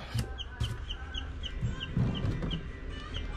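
Newly hatched chicks cheep from below a home egg incubator, a run of short, thin, high peeps repeating at a steady pace over a low background hum.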